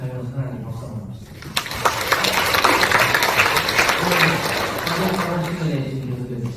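A church congregation claps together during a sermon, a broad wash of applause swelling and holding for several seconds, with a preacher's voice audible before and after it.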